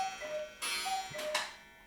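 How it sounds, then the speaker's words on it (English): A wind-up cuckoo clock ticks close by in a quiet room, several crisp ticks at a steady rhythm, with faint tonal ringing between them and no talking. "like a good old wind-up cuckoo clock"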